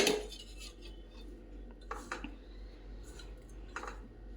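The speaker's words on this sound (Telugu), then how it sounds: "స్టవ్ పైన ఒక ప్యాన్ పెట్టి దీంట్లో కొంచెం ఆయిల్ వేసి" Pan set on a stove with oil added, opening with a sharp metallic clatter followed by scattered light clinks and scrapes over a low steady hum, close but quiet.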